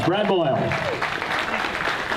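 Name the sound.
audience applause for a speaker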